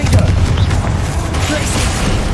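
Confringo spell blasts in the Hogwarts Legacy video game, booming explosive bursts layered over a dense, continuous wash of combat noise with voices mixed in.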